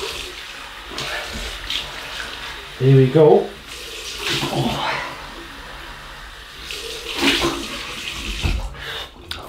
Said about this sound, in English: So cold water rinse,